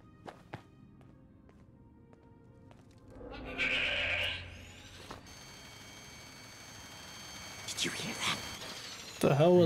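A Sheepsquatch creature in the video game Fallout 76 lets out a brief strained bleat in the middle of the clip, with sharper cries near the end over footsteps and game ambience.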